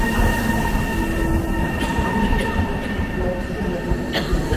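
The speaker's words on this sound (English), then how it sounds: "Our train's arriving." A RegioJet train rumbles steadily into a station in the Czech Republic, with a constant low roar and a thin metallic squeal of wheels on the rails.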